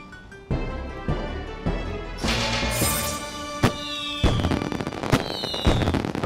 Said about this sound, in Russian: Она фейерверками пуляет?